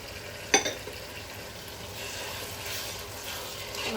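Beef biryani masala stirred in a pan, with a sharp clink of the spoon near the start followed by steady low sizzling and scraping.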